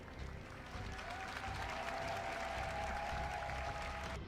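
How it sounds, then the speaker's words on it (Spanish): A congregation at a Manmin church service applauds as the senior pastor comes up to preach, a steady, soft wash of clapping with a faint sustained tone running underneath. "Con fuertes aplausos y vítores de los hermanos, la pastora principal Suji Lee subió a predicar"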